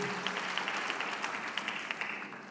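A church congregation applauds God during an online worship service, moderately loud clapping with scattered sharper claps, fading slightly at the close.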